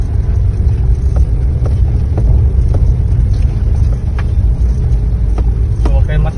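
Vehicle in first gear engine braking on an uphill climb, a steady low engine rumble with faint clicks and knocks over it, no voices.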